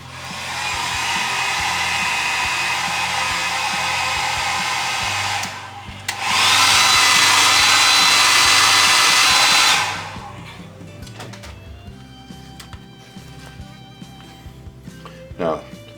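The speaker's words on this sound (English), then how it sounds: "So we'll go with the air dryer," A blow dryer blasts air over freshly weathered paint on an HO scale New York Central GP7 locomotive model, a loud steady whoosh that stops, restarts louder, then cuts off, followed by faint handling noises and talk.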